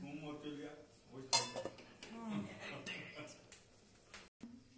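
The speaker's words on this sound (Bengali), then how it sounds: "তারপর ঢাকা দিয়ে দিচ্ছি।" A lid is set onto a cooking pot of simmering food: one sharp metallic clink close by amid soft kitchen clatter, with a voice talking quietly over it.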